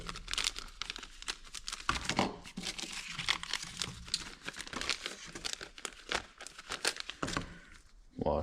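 Scissors snipping and crinkling open the plastic wrapping on a new F919R washer for a 1960 John Deere 430 tractor, with steady rustling and tearing crackle close by throughout.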